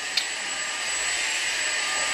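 A household vacuum cleaner drones steadily and loudly throughout, with a constant high whine and a brief click near the start, with no talking.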